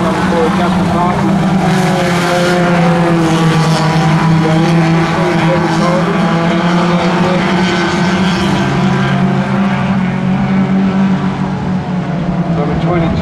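Race cars roaring around the dirt oval at Gilgandra Speedway during a feature race, engines droning loud and sustained with shifting pitch as they lap, while an announcer talks over the PA throughout.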